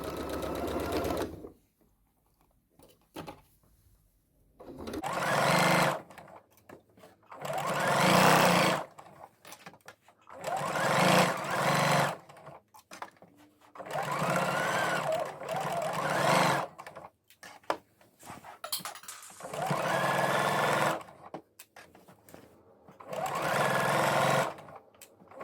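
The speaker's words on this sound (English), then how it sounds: "then just edge stitch all the way around the waistband" Sewing machine edge stitching around the waistband of fabric shorts, running in about seven separate bursts of a few seconds each with short quiet pauses between, close and clear with no talking.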